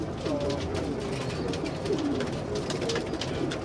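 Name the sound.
racing pigeon cooing in a breeder's loft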